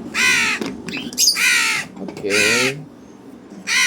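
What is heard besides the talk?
crow cawing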